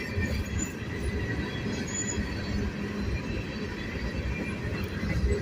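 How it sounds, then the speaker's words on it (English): A Canadian National SD70M-2 freight locomotive leads a train rumbling past close by, steady heavy rolling noise with a high metallic wheel squeal running throughout. "I just picked my camera up because I didn't want it to fall over with this train going by"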